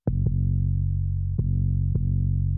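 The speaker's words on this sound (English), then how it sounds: "we're treating it with a tube saturation, which is quite hard" A heavy, gritty 808 sub bass with hard tube saturation drones continuously, with clicky punchy attacks marking each new note in an uneven rhythm.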